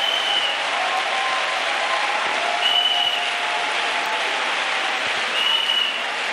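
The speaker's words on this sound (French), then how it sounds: "Clap for Jesus." A church congregation applauds in praise, a steady, dense wash of clapping that holds for several seconds with slight swells in intensity.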